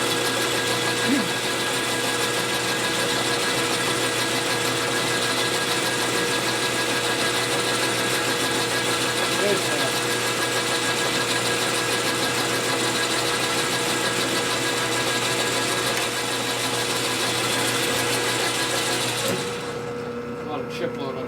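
A milling cutter works metal on a part for a 1946 Harley knucklehead 84ci stroker motor, a steady whirring machining drone with a faint tonal whine that runs evenly for about twenty seconds before stopping.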